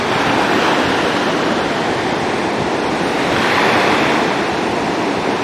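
Fast-flowing river water with waves rushes at high level near Rishikesh, a loud, continuous broadband roar with gentle swells in intensity and no voices.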